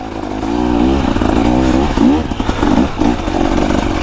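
A 2024 KTM EXC 300 two-stroke enduro motorcycle ridden hard on wet, slow terrain, its engine loud and close, revving up and down in quick throttle blips, with no talk.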